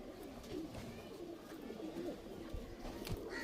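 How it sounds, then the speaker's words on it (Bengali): Kaldum pigeons in a loft, soft low cooing repeated in short rolling phrases at close range, quiet, with faint background noise. "বন্ধুরা দেখুন এক পেয়ার কালদুমা দেখাচ্ছে এবারে দাদার বাড়ির পায়রা"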